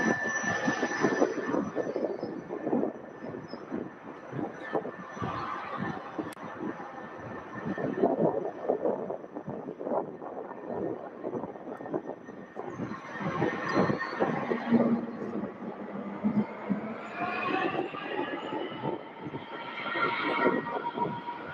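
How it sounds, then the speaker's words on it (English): An aircraft on short final approach to runway 17 left at UPS Worldport, Louisville, a steady loud roar with a rising engine whine toward the end, under continuous broadband rumble. "On short final for runway 17 left."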